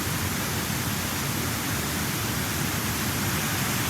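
Hard-flowing water rushing after days of steady rain, a dense, continuous roar that stays loud and even throughout with no voices.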